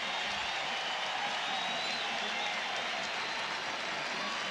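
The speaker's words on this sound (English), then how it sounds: "Listen to the crowd. Yeah, they love it." A stadium crowd at the 1987 MLB All-Star Game cheers in a continuous, even roar that holds steady at moderate loudness throughout.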